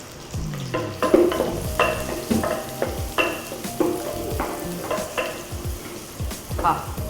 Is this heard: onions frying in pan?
yes